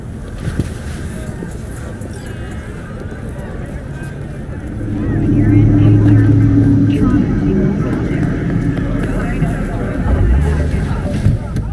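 A car drives in Cyberpunk 2077, a low steady engine rumble that swells louder midway and holds beneath ambient game sound.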